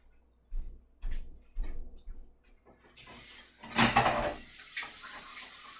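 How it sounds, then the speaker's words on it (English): Dishes being washed: a few soft clunks of crockery, then running water and clattering plates and pans in a sink, moderately close with no talking. "Socrates, could you please come do the dishes?"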